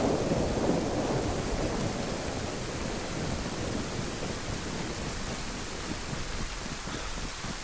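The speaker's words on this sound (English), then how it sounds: "All this bloody rain." Steady downpour of rain with rumbling thunder in the DayZ survival game on the Livonia map, a dense, even roar of falling water that fills the scene from start to finish.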